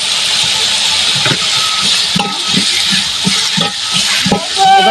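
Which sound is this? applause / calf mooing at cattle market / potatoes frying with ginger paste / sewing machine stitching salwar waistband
potatoes frying with ginger paste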